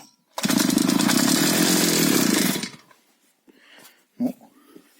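A petrol brush cutter's two-stroke engine, just after carburetor cleaning, bursts into a loud raspy buzz for about two seconds, then cuts out, followed by faint clatter and a brief thump.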